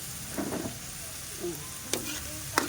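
Adobo with a splash of vinegar is stirred in a pan, giving soft scraping and clinking utensil strokes over a faint, steady sizzle.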